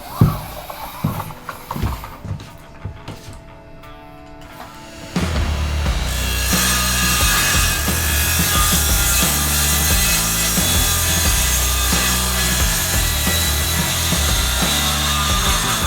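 Plywood for a narrowboat ceiling lining is cut, starting with a few scattered scraping strokes and then turning into a loud, steady, continuous rasp that lasts about ten seconds.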